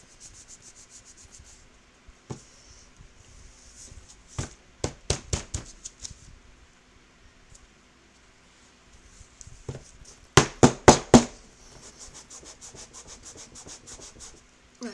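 Fingers press and rub a paper ribbon onto a handmade photo mini album, giving soft scratchy rubbing bursts in short clustered runs with quiet gaps between them.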